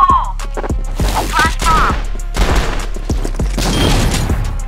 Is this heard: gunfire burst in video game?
yes